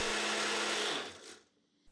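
A Ninja 900W Nutri-Personal blender motor whirs loudly at close range, then winds down and fades out within about a second, leaving near silence with a faint click at the end.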